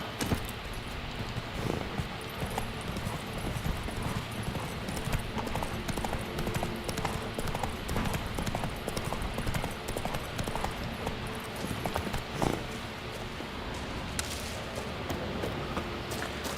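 Roach, Geralt's horse in The Witcher, clip-clops steadily at a gallop, the rapid hoofbeats continuing without a break over a constant wash of outdoor game ambience.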